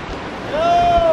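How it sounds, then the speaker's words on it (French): A light breeze and waves lapping at the water's edge on a hot day, a soft continuous wash that grows slightly louder, with a faint tonal whistle over it partway through. "Tu entends cette petite brise et ces bruits de vagues?"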